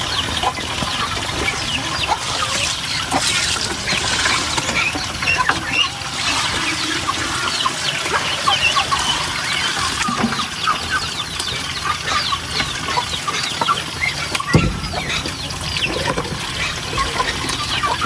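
Chickens cluck continuously on a small Filipino farm lot also holding turkeys, pigs and ducks, a dense steady chatter of hens over splashing water for about eighteen seconds, with no talk.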